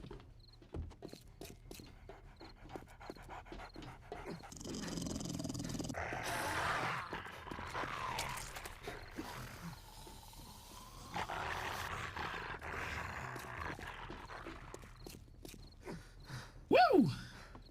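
A zombie dog in the video game 7 Days to Die growls and pants in low, rough bursts over several seconds, mixed with footsteps and game noise at moderate loudness.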